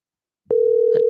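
A telephone line tone on a call back to a scam line starts abruptly after silence and holds a loud, steady hum, with a couple of faint clicks over it.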